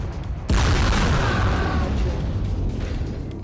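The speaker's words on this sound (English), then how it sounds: "Nuclear weapon launch." A nuclear weapon strike in Command & Conquer Remastered sets off a sudden, loud, deep boom that swells into a long roaring rumble and slowly fades.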